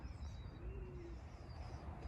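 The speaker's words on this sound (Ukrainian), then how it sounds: "Але я чую, там голубів багато." Pigeons coo softly in the distance in Heidenheim an der Brenz, Germany, a faint low warbling call over quiet outdoor background noise.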